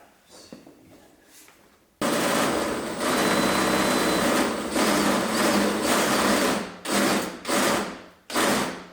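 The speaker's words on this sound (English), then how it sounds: "we're gonna go ahead and line this up and get this hole drilled" Power drill boring a hole through a custom fender liner on a wide-body Ford Bronco, a loud steady whine running for several seconds, then short bursts stopping and starting near the end.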